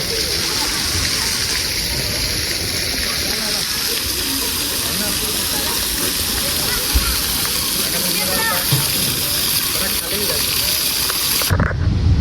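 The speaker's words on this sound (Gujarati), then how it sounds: "સારી ઉપરથી પાણી પડે છે ગોવર્ધન પર્વત પર" Water falls steadily down a Govardhan mountain display at the Vishwambhari temple in Valsad, making a continuous rushing wash with a faint background murmur that ends abruptly near the end.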